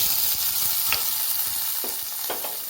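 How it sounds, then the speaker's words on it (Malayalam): Mustard seeds crackle in hot oil while being tempered for a carrot pachadi, giving a steady close sizzle with scattered pops. "ഇനി നമുക്ക് ഇതിലേക്ക് കടുക് താളിച്ച് ചേർക്കാം."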